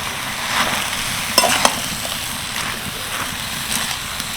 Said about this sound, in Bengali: এবার কেটে রাখা পালংগুলো দিয়ে দেবো ভালো করে মিশিয়ে নেবো